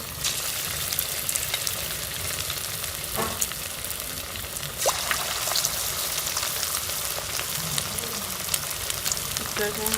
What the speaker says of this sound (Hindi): तो अब हम इसमें चिकन को फ्राई कर लेंगे